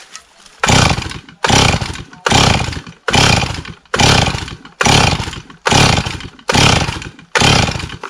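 A Stihl 028 chainsaw with a full choke is yanked on the recoil starter again and again, giving eight or nine loud, rhythmic ratcheting pulls about a second apart that never catch and fire, up close, with no talk.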